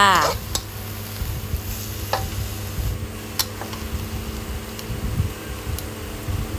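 Minced pork cooked with water sizzles in a pan as tofu is added for a tofu and celery stir-fry, a steady close hiss broken by occasional utensil clicks and scrapes.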